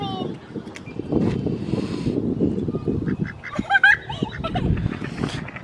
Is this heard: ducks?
yes